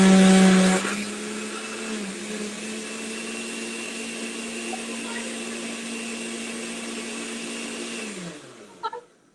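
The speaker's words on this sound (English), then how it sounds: "my blender, I just put it on and I started it" A blender whirs steadily through watermelon and coconut sorbet, a loud, close, continuous motor drone with a heavier start, running for several seconds before winding down and stopping.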